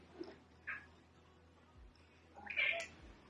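A pet cat indoors lets out a couple of faint meows, one short and one longer, over a quiet room hum, heard alone without talking.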